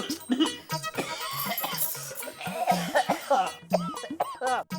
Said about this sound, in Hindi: इतनी ज्यादा खांसी कैसे हो गई?